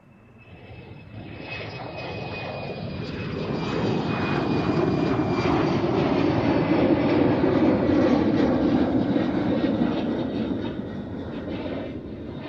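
A jet airliner taking off at Amsterdam Schiphol Airport, its engine roar swelling from a distant rumble to a loud sustained peak and then slowly fading, heard alone without talk.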